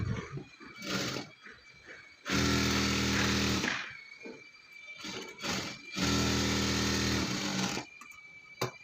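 A sewing machine stitches a blouse lining in two long, loud runs of steady motor whir and needle hum, with quieter handling and shuffling of fabric between them.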